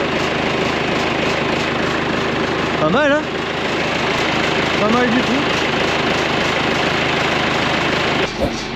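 A backhoe engine idles with a steady low rumble throughout while someone speaks briefly over it, ending with a short clunk.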